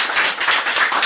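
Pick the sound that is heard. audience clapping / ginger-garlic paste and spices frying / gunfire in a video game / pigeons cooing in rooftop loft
audience clapping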